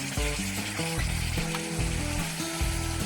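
Cooked chickpeas go into sizzling masala in a pan, giving a steady, close frying hiss with music playing underneath.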